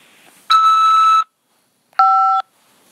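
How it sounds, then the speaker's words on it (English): Two electronic beeps from a prison phone system: a longer steady tone, a pause, then a shorter one with a slight stutter, both clean and loud against silence. "After the beep, press 5 to accept this call."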